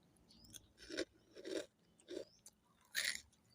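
Crunchy fried paprika-seasoned enoki mushrooms being bitten and chewed up close, four loud crisp crunches spaced about half a second apart with quiet pauses between.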